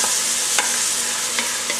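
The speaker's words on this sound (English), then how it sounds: "we are going to cook these roughly 5 to 10 minutes till the onions are translucent" Onions and vegetables for New Orleans shrimp creole cooking in a pan, a loud continuous sizzle with a few short stirring scrapes.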